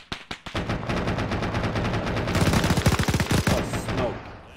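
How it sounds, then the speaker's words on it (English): Gunfire in a military video game: a few single shots, then sustained rapid machine-gun bursts, loud and close, continuing for several seconds before cutting off. "we're getting shot at from east"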